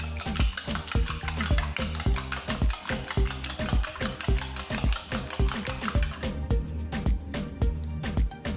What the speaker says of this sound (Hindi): सबसे पहले हम दो अंडे एक छोटे बोल में तोड़ लेंगे और इसमें डालेंगे थोड़ा सा नमक और इसे अच्छा सा हम बीट कर लेंगे।